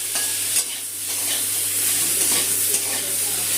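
Tilapia fish curry with potato, papaya and ground spices sautés in a pan with a little water, a close, continuous sizzle with hiss and stirring scrapes throughout.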